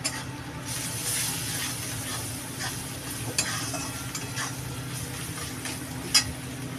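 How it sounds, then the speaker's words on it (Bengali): Red chili powder spice masala frying in a pan for a rohu fish curry with pointed gourd and potato, a steady close sizzle with scraping stir strokes and a couple of sharp clinks near the end. "মশলাটা ভালো করে ভাজা করে নিতে হবে"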